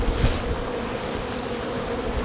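Wasps buzzing around a weak beehive in an apiary, a steady, dense insect drone close by for the whole stretch, with no talk.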